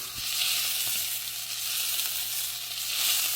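Filet mignon steak sears in a hot pan with butter, giving a steady, close, loud sizzle with faint crackles throughout and no talking.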